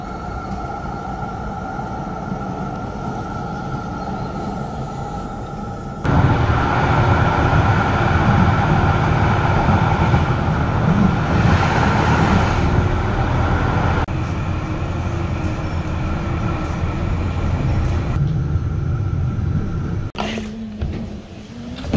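An old tram in the Ruhr area of Germany rumbles along with a steady low drone and rattling, the noise swelling and shifting as it runs, ending with a brief clunk.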